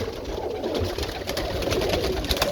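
Cooing from Birmingham Roller pigeons in a loft, a continuous soft murmur of several birds close by with a few light flutters, no talking.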